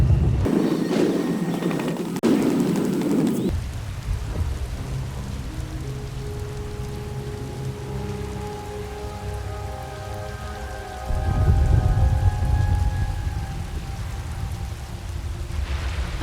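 Steady rain pouring during a storm in Star Wars: The Old Republic, with low rumbling bursts near the start and again later, and faint tonal sounds drifting in between, without any voices.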